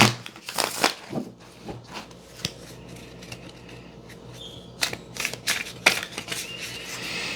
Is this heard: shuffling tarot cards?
yes